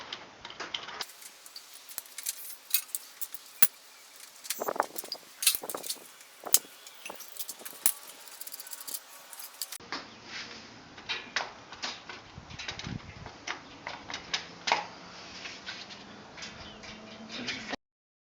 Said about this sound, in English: Okay, now we're taking the front sprocket cover off. Craftsman ratchets with Craftsman Allen bits.